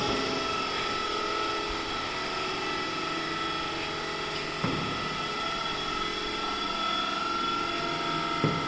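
DC shunt motor running steadily on a test bench with its speed set by an armature rheostat, a continuous even mechanical whir and hum with two brief clicks partway through.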